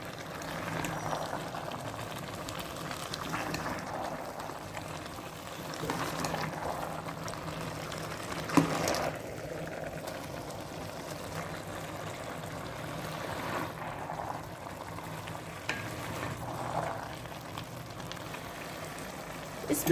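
Soft, continuous bubbling and sizzling of gajar halwa, grated carrots cooking with ghee and sugar in a pot, fairly quiet and close, with occasional stirring clinks and faint voice in the background.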